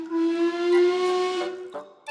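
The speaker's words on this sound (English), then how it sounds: "a very special cream-coloured tender engine, with a whistle that sounds like this." A steam tender engine whistle blows one long, steady, bright tone for about a second and a half, ending with a couple of short puffing hisses.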